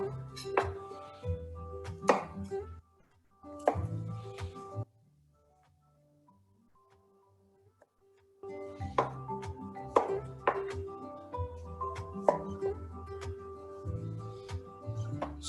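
A knife chops through golden beets on a cutting board while their tops and tails are trimmed: a run of sharp, close thuds in uneven bursts, a quiet pause, then another steady series of cuts.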